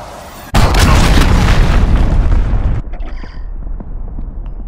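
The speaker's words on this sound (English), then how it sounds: "Cruise missile, take cover." A cruise missile blast in Call of Duty: Modern Warfare lands as a sudden loud boom, followed by a long roaring rumble that fades into quieter battlefield noise.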